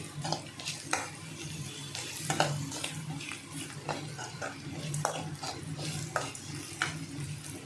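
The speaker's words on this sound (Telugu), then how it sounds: "ఇదిగోండి మన ఉల్లిపాయ ముక్కలు అనేవి ఫ్రై అయిపోతున్నాయి" Onion pieces fry in a pan with salt added, giving a soft continuous sizzle broken by repeated scraping clicks of a spoon being stirred through them.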